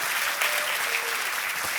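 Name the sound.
audience applause in a church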